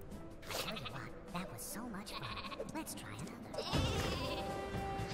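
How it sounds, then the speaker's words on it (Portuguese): Cartoonish sheep bleats from the artillery game Worms WMD sound several times in wobbly, warbling bursts, mixed with game effects and a sudden louder blast near the end, while someone talks over it. "Há de me dizer como é que vais mandar a ovelha para lá"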